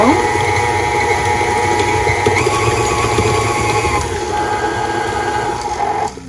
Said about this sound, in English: we're beating the brown sugar and the cream cheese